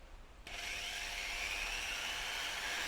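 Vitals cordless drill-driver motor whirring as the trigger is squeezed harder, starting abruptly and then holding a steady high whine that climbs slightly in pitch, close and alone.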